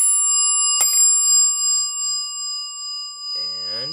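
A Dover traditional elevator bell rings steadily, struck sharply once partway through, with a voice starting to speak near the end.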